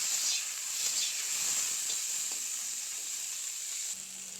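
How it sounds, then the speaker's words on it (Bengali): Tomatoes and green chilies frying in hot oil in a pan: a bright, continuous close sizzle and hiss holding steady throughout, with no talk. "এগুলো একটু লাল লাল করে ভাজি করে নেব।"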